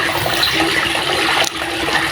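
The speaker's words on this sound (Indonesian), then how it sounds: "Itu saya buat 2 pancuran ya, agar membentuk arus dan agar kotoran bisa cepat masuk ke filter." Water splashes steadily from two circulation spouts into a backyard gourami fish pond, a loud, continuous close rushing and splattering.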